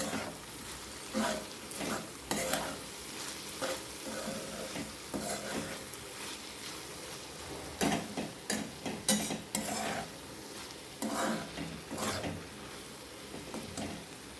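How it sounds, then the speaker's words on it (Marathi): Cluster bean (gavar) vegetable with crushed peanut powder being stirred in a pan, with steady frying sizzle and irregular scraping strokes of a spoon against the metal, close and moderately loud, no voices. "एकदा परत ही भाजी हलवून घ्यायची आपल्याला"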